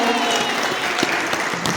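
Audience applause at a school function at Saraswati Balika Vidya Mandir in Shamli, a dense steady clapping from a crowd, loud and continuous for the whole stretch.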